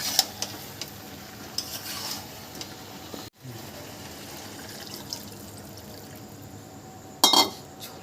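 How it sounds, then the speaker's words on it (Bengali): Water poured into a pan of browned chicken curry with potatoes, a soft liquid pour and sizzle with light stirring and a sharp clink near the end, faint and close. "এবার আমি জল ঢেলে দেবো।"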